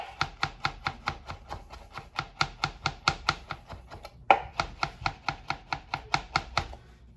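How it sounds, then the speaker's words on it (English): A knife minces garlic on a cutting board with a rocking motion, making a quick, even series of close taps that is broken once by a louder knock and then continues. "when I'm mincing, you can put your hand on top here like so, and just do this rocking motion"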